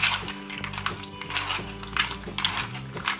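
Raw shrimp being mixed with salt and lime juice in a bowl gives a steady run of clinking and scraping, with small clattering knocks spread throughout under a faint background hum.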